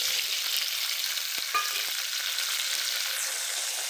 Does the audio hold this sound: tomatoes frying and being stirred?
yes